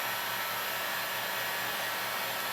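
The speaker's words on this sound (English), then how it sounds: "We're just using a heat gun." A heat gun heats vinyl wrap on a 2015-2016 Subaru WRX roof, giving a steady, even blowing hiss that runs unchanged throughout at moderate level.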